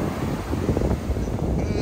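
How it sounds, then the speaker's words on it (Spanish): A steady low rush of sea surf mixed with wind noise, continuous and fairly loud, with no voices. "van a escuchar más ruido del mar"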